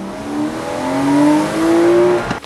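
A Mazda Miata fitted with ISR coilovers drives by close up, its engine tone rising steadily as it accelerates through the gears, with a faint knock at the very end.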